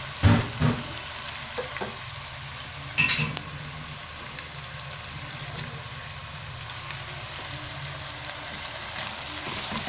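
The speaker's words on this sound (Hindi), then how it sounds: "गरम तेल में उसको डालना है थोड़ा सा फैला के, और साथ में ये कीमा डाल दिया। अब इसको भूनना है हमें।" Minced meat with garlic and ginger fries in hot oil for qeema karahi, a soft, continuous sizzle with a few clanks of stirring near the start and little else over it.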